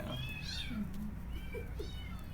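Kittens meow in short high calls, several overlapping cries over steady background hum, fairly close and clear with no talking.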